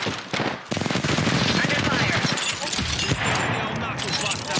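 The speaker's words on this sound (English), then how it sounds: "Opening fire. Under fire." Video game gunfire during a bomb-plant round, with loud, dense automatic bursts filling nearly the whole stretch. Players talk over the shooting.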